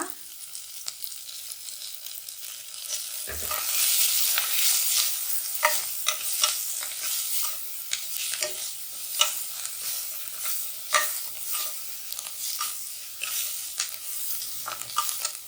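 Cinnamon, black pepper and roasted gram dry-frying in a pan give a steady bright sizzle with repeated scraping stirs of a spoon, close and continuous, no voices.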